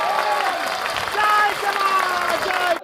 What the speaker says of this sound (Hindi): इसी बात पर ठोको ताली एक बार कस के फिर।